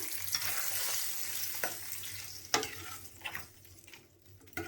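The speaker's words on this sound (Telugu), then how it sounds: "ఈ మిశ్రమాన్ని కూడా దద్దోజనంలోకి వేసుకొని కలుపుకొని పెట్టుకోవాలి." Tempering mixture is stirred into curd rice (daddojanam), giving close, quiet scrapes and soft squelching strokes in an irregular rhythm. No voices are heard.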